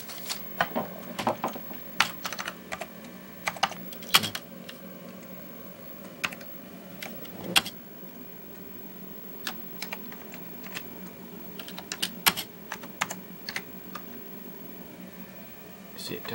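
Typing on a 1987 Commodore Amiga 2000 keyboard, irregular clusters of sharp key clicks at close range over a low steady machine hum, with no voices.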